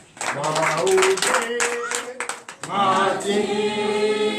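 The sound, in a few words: congregation clapping in acclamation at a church service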